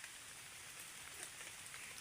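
Steady rain falling, an even, fairly faint hiss of drops hitting a surface, with no voices heard.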